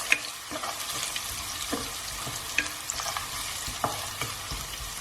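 Crushed ginger and garlic fry in a pan with a steady, crackling sizzle, punctuated by repeated scraping stirs and small clinks, close with no voices.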